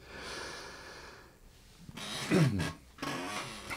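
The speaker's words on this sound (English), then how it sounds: "clear my throat" A rough, breathy throat clearing close to the microphone, two short raspy bursts after a quieter stretch.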